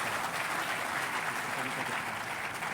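An audience at an education summit applauds for Rishihood University, a steady, full round of clapping with a faint voice beneath it, lasting a few seconds.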